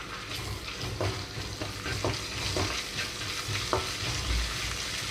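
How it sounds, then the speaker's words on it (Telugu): Ginger garlic paste fries with tomatoes and onions over a medium flame, a steady soft sizzle broken by repeated stirring scrapes of a spoon against the pan, close and moderately quiet without any talking. "థర్టీ సెకండ్స్ పాటు అల్లం వెల్లుల్లి పేస్ట్ ఇలాగే మీడియం ఫ్లేమ్లో ఉంచి వేయించుకుంటున్నాను"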